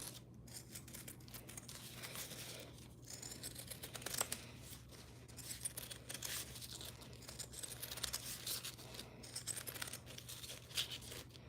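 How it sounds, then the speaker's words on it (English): Zigzag pinking scissors snip fabric during the sewing of a tote pool bag, giving soft repeated close cutting and crisp rustling over a steady low hum, with no talk. "I like my zigzag scissors for this."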